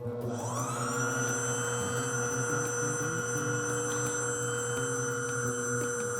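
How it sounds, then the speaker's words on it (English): A stand mixer turning a dough hook through bread dough for Chinese baked char siu bao, running at low speed with a steady mechanical motor hum and whine that holds evenly and alone throughout. "Just going to mix this up with my dough hook"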